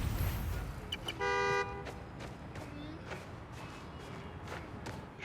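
A car horn in the video game Marvel's Spider-Man: Miles Morales blares once in a steady tone for about half a second, standing out over a low background rumble and scattered soft thuds.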